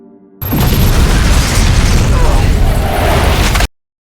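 A building blowing up in a war film, a loud sustained roaring blast with rumbling debris that holds steady for about three seconds before cutting off abruptly.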